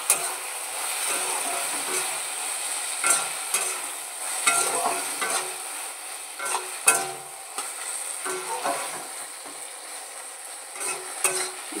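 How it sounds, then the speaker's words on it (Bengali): Tomato chutney with a bay leaf is stir-fried in a pan, a continuous soft sizzle broken by repeated scraping stirs of a utensil, close and steady with no voices. "দিয়ে আমি এই সব কিছু একসাথে সুন্দর করে একটু কষিয়ে নেব। একটু তেজপাতা দিয়ে দিলাম,"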